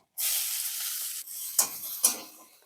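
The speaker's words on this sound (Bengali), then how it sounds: "ওই তেলের মধ্যে দেব কালো জিরে, একটা শুকনো লঙ্কা, একটু কোচানো রসুন, কোচানো পেঁয়াজ।" Nigella seeds, a dried chili, crushed garlic and onion hit hot oil with a loud burst of sizzling, then settle into steady frying crackle with a few stirring scrapes, close and alone.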